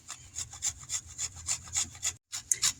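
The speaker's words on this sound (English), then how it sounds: "we're starting with some fresh grated turmeric" Fresh turmeric root is rubbed over a grater in a rapid, even run of about a dozen close rasping strokes, followed by a brief pause and then a few more strokes.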